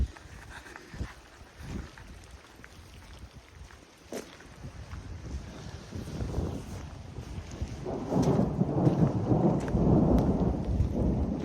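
Thunder rumbles low and keeps building in a thunderstorm, while heavy rain pours and grows louder toward the end. It's heard at night under trees beside a parked van, with no voices.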